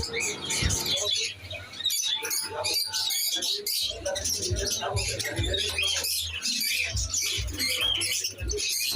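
Many small birds, including budgerigars and finches, chirp and twitter together in a busy, dense chorus inside a pet bird shop, with short rustling and scratchy sounds mixed in and a low hum beneath.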